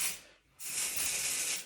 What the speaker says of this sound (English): I've got some texture spray from Sexy Hair